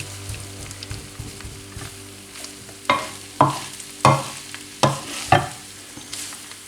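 Minced meat frying in a pan for stuffed bulgur köfte filling, with a soft sizzle and a few scraping strokes, then five louder, evenly spaced stirring scrapes close up, with no talking.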